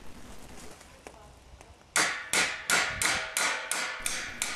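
A hammer taps a bolt into place on a small satellite dish, a few light knocks followed by a run of about eight sharp, evenly spaced metallic strikes, close and loud.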